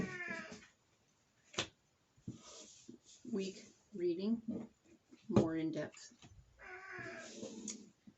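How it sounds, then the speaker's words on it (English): A chatty pet cat meows repeatedly indoors, several short calls scattered between and over a person talking quietly nearby. "My cat's very chatty right now."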